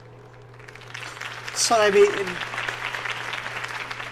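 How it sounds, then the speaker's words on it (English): Crowd applause after Harvey Dent's campaign speech in the video game Arkham Knight swells into a broad, cheering roar, while a voice speaks briefly at the start. "if only Mr. Wayne, my campaign's largest backer, could have heard that applause"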